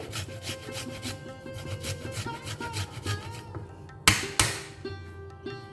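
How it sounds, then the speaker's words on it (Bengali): Ginger rubbed against a grater: a continuous close scraping rasp with a faint ringing tone, followed near the end by two sharp knocks. "ঘষে নিলাম আদাটাকে গ্রেটের সাহায্যে গ্রেট করে নেবে"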